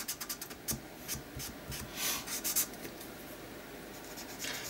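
A pen with a ridged nib scratches across paper in close, quiet strokes, with a few quick taps at the start followed by steady rasping writing.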